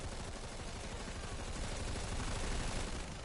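The Equinox burst gun in Planetside 2 fires in a dense, continuous rattle of rapid shots, steady and loud throughout with no pauses or voices over it.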